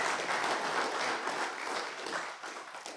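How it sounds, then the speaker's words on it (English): Steady applause from a conference audience at an annual scientific meeting, a dense, even wash of many hands clapping that holds for the full stretch and eases slightly toward the end. "So round of applause for him."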